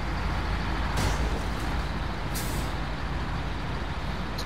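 A truck in a video game gives a loud, steady engine roar with two short hissing bursts like air-brake releases, filling the clip with no talking.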